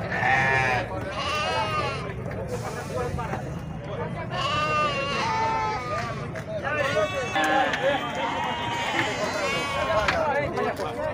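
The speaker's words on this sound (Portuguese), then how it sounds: "Aqui é bode, é ovelha, é cabra." Goats and sheep bleat again and again at a goat and sheep fair in Sumé, Paraíba, with overlapping wavering cries from several animals over steady crowd murmur and nearby talk.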